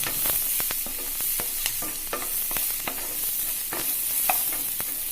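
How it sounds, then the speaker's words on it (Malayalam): Green chillies, curry leaves and onion sautéing in a pan for a bitter gourd masala curry, a constant close sizzle broken by frequent scraping and clicking stirs, with no talking. "കറിവേപ്പിലയും സവോളയും കൂടിയിട്ട് ഒന്ന് വഴറ്റിയെടുക്കാം."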